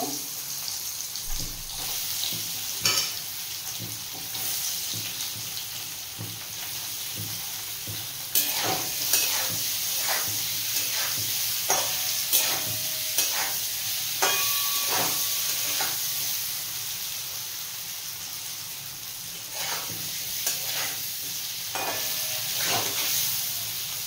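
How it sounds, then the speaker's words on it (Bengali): Homemade paneer pieces frying in hot mustard oil, giving a loud, continuous close-up sizzle with occasional clinks and scrapes from stirring. "তেলটা গরম হয়ে গেছে। এবার পনিরগুলো প্রথমে ভেজে নেব।"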